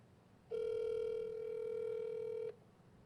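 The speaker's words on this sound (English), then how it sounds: "Answer the phone." A single steady telephone ringback tone sounds for about two seconds, then stops, over quiet background.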